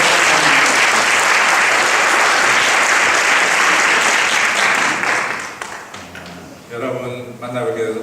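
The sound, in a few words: church congregation applause welcoming the pastor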